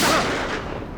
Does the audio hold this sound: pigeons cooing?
no